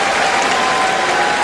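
A cricket crowd claps and cheers as Tendulkar takes on McGrath's bowling, a short burst of dense, sustained applause filling the ground.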